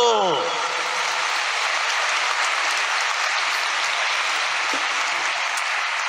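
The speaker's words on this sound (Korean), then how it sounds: "박수!" Applause from a large audience at a Korean-language religious rally, steady dense clapping that fills the whole stretch at an even level, with a brief voice fading out at the very start.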